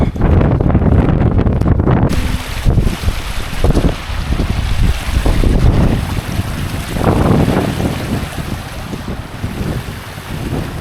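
Small mountain river crossing on the slopes of Mount Brandon in County Kerry, Ireland: steady close rushing water mixed with gusty wind buffeting the microphone, with no talk.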